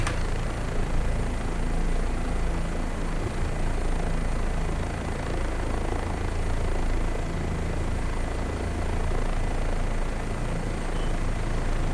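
OH-58D Kiowa helicopter in a flight simulator, its rotor and turbine drone steady and loud throughout with no break, heard alone without any talking.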